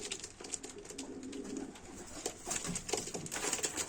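Pigeons, including a crested blue male, cooing softly at close range amid rustling and small clicks, no talking.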